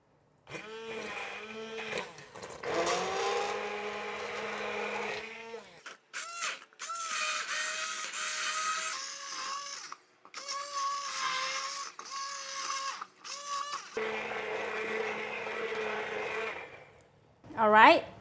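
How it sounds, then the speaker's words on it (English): A hand blender whirs directly in a pot of leek and potato soup, running in several long bursts of high, buzzing motor drone separated by brief pauses, close and fairly loud. "So I'm going to use the hand blender just to go ahead and blend it direct to the pot."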